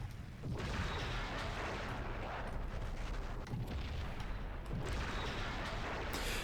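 Torpedoes striking ships in the space combat game Star Trek Legacy, a dense run of heavy booming impacts and rumbling blasts layered over one another, loud and continuous with a few sharper hits standing out.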